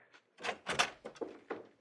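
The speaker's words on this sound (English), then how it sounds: "I hear somebody opening the front door." A front door opening in an old-time radio mystery drama, heard as a short run of close wooden clunks and knocks with brief gaps between them, no voices.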